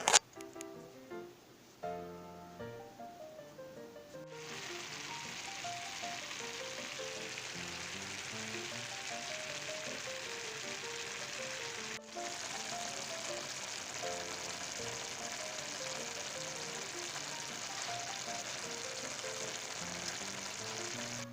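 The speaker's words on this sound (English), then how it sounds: "Sometimes I just add a little bit of olive oil, or a lot, depending on how likely it is to fry and stick to the frying pan" Food fries in olive oil in a frying pan with a steady loud sizzle, beginning after a few seconds of clatter and background music and continuing unbroken with a brief interruption midway.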